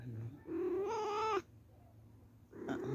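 A cat meows loudly twice, a short cry followed by a long drawn-out yowl, then a pause before another meow starts.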